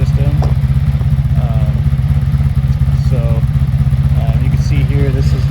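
A 1983 Honda Magna V45 VF750C motorcycle idles through its dual exhaust with a loud, steady, throaty low rumble close by, while someone talks briefly over it.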